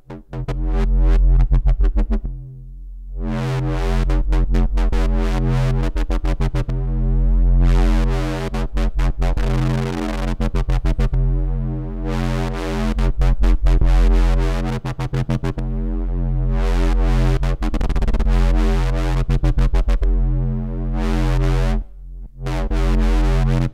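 Modular synth patch running a VCA as a sequential switch, letting several modulation voltages through in turn to make a wobbling tone. A loud, continuous harmonic drone pulses and stutters in rhythmic bursts with short gaps, heard alone.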